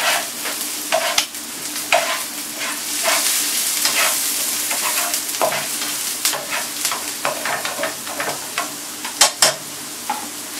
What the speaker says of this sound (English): Now it's time to throw in the garlic and the onions.